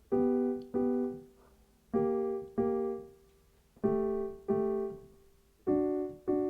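Piano notes played semi-staccato in pairs, each briefly held with a slight gap before the next, forming a steady repeating pattern, close and clear.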